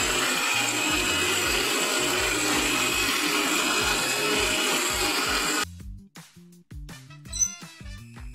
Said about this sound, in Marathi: आता हे मिक्सरला मी बारीक करून घेतो बरं का.